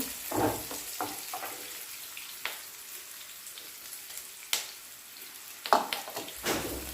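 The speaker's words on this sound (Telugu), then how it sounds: "అల్లం వెల్లుల్లి పేస్ట్ కూడా పచ్చివాసన పోయేంత వరకు కలుపుకోవాలి" Ginger garlic paste with onions and green chillies fries in a pan, a low sizzle broken by several sharp scraping strokes of a spoon at irregular intervals, near and without voices.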